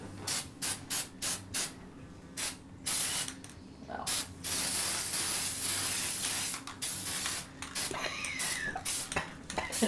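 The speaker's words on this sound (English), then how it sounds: "This is glitter gold spray." Glitter gold aerosol spray paint, Floral Craft Holiday Party brand, hisses in repeated short bursts and then a longer continuous spray, close and loud, with faint rattling and no talk.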